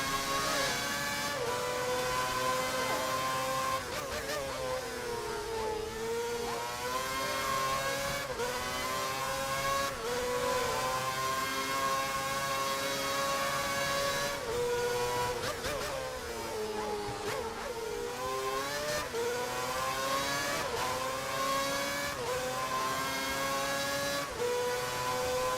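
A BMW Sauber F1 car in an F1 video game, its high-pitched engine screaming steadily close behind, rising and falling with gear changes and revs over a long continuous stretch, loud and unbroken.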